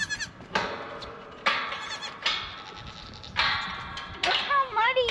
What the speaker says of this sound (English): Food for annoying goats.